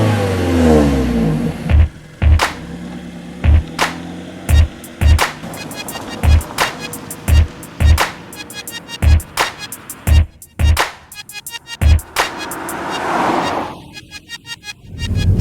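A 2013 Mazda3 pulls away with a rising engine note, then cruises as a run of sharp, evenly spaced thumps from the road surface punctuates the steady tire and engine drone inside the cabin.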